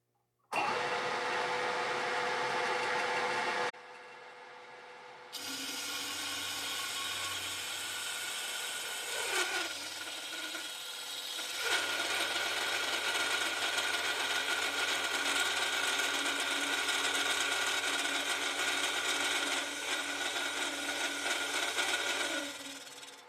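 Grinding or cutting tool boring an outlet hole in a Husqvarna 395XP chainsaw muffler, a loud steady abrasive whine that pauses briefly near the start, then runs continuously close by with no talking.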